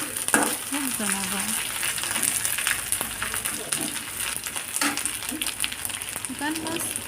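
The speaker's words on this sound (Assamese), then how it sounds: "এতিয়া মাছখিনি মোৰ প্ৰায় ভজা হৈ গৈছে" Dried fish fries in a pan with a continuous crackling sizzle, with occasional scrapes from stirring and a voice faintly heard at moments.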